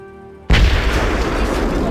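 Grenade blast from the military tactics game Full Spectrum Warrior, a sudden loud boom after a faint quiet hum, followed by a sustained rumbling, crackling wash of noise.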